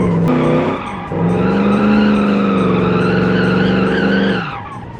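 A car in BeamNG brakes hard and skids, giving a loud, steady tire squeal of about four seconds that starts after a brief break, holds its pitch, then fades out.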